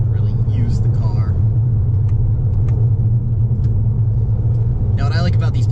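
A 2018 Toyota Camry SE in sport mode, driven hard with paddle shifters: a steady, loud engine rumble from inside the cabin with faint road noise, and brief bits of speech over it.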